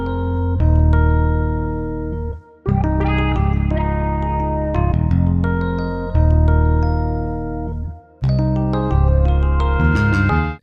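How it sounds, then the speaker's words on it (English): Low synth bass notes play in a steady phrase, sustained and punchy with short gaps between groups, loud and alone with no talking. "so I decided to add a bass guitar to it."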